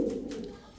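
Pigeon giving a single short, low coo, close and alone.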